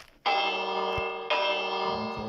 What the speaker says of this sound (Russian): Колокол. Колокол.